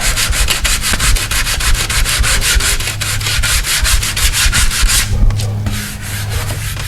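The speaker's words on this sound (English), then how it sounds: "we're going to come in with a 320 or a 400, and we're going to sand it one final time" Fine 320 or 400 grit sandpaper is worked over filler on a dented metal door in loud, fast, rhythmic back-and-forth strokes that carry on steadily, with a brief change in texture near the end.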